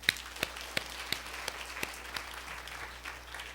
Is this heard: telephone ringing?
no